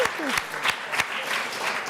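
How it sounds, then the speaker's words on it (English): Audience at an environmental candidate forum for a congressional district applauding, a steady wash of clapping with a few louder close claps standing out. "let's give a round of applause to Jeff Colton"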